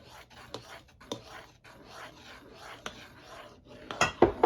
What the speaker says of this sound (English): now let's stir this up